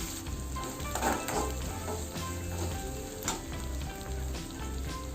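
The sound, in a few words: onions, dried red chillies, mustard seeds, urad dal and cumin sautéing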